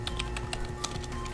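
Quick, uneven keystrokes on a computer keyboard, close and fairly quiet, entering a database command at a steady typing pace with no talking.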